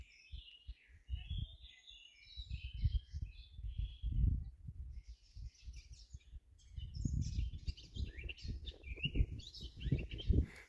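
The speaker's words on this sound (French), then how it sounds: "Écoutez les petits oiseaux là." Small birds chirping and twittering steadily near caves outdoors, a continuous bright flurry of calls, with loud low rumbling and handling noise from footsteps or wind underneath.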